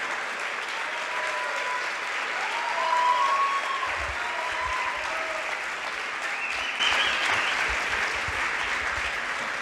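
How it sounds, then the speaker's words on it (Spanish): Sustained audience applause at a conference in Monterrey, a broad, even roar of many hands clapping for nearly ten seconds, with faint voices and a swell of cheering partway through. "Un fuerte aplauso para Miklos Lukács."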